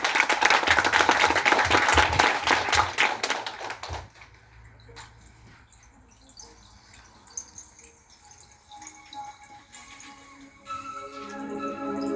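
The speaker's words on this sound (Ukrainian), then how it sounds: "Аплодуємо." Audience applause in a children's extracurricular education centre after girls perform a Ukrainian spring folk song: dense, loud clapping for about four seconds, then it stops abruptly, leaving quiet room noise and faint scattered sounds.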